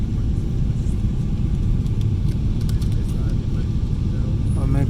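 Loud, steady low engine rumble inside an airplane cabin during a night landing at Bole International Airport in Addis Ababa, Ethiopia, constant throughout, with a faint voice in the background.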